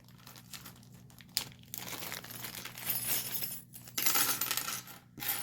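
Metal bag hardware, a pair of 30 mm half rings, strap regulators and sliders, is handled up close, with clinking metal and crinkly packaging rustle in irregular bursts.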